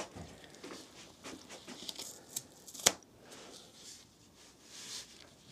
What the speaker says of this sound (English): I'm just including a dew tape here.